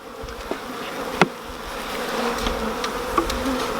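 Honeybees buzzing as a nuc is transferred into a hive outdoors: a steady close drone of many bees with a few sharp clicks and taps from handling frames.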